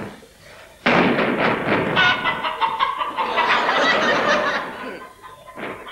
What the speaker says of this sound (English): The sound of chickens has specially been added for people living in rural districts.